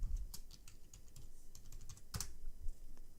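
A computer keyboard is tapped with quick, close, crisp keystrokes in short irregular bursts while a password is entered during an encrypted Ubuntu setup on a USB drive, with no talking.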